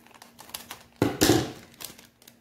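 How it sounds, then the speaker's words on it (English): A plastic pack of cloves being cut open: light crinkling rustle near the start, then a louder sharp crinkle and tear of the packaging in the middle, fading into faint handling, no voices. "let's cut the pack here"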